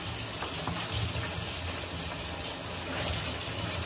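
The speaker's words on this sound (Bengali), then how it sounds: "শাপলাগুলোকে বেসনে ডিপ করবো" Water lily flowers dipped in gram flour batter frying in hot oil make a loud, steady, close sizzle that fills the whole stretch without pause.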